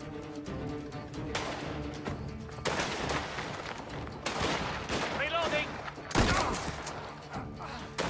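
Gunfire in the video game Mafia, repeated sharp shots and bursts coming in clusters over about eight seconds, loud against background game sound.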